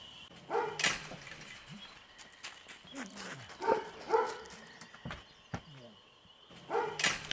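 Labrador dogs at the Rivière Blanche kennel bark in scattered, sharp bursts with a few whining yips, fairly close, with quieter gaps between the outbursts.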